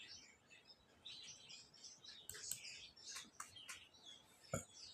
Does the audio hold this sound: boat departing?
no